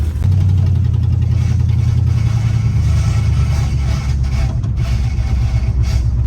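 A Chevy Bel Air with a 265 engine rumbles along on a drive, its loose exhaust dragging on the road, giving a steady low engine drone with scraping noise throughout and no talk.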